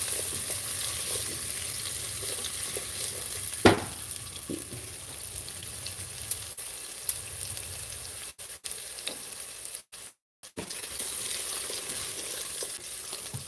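Onions frying in a pan on a stove, a steady close sizzle that runs on without a break, with a sharp clatter partway through and a few short dropouts near the end.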